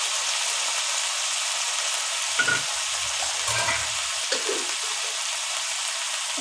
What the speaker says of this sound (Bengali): এই দেখুন আমি ঢেলে দেবো বুট সিদ্ধগুলো